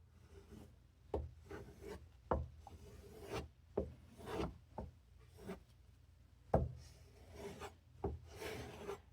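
Ka-Bar knife blade drawn across the medium grit of a Spyderco sharpener, repeated dry rasping strokes in an uneven rhythm, each scrape close and distinct with short pauses between, no talking.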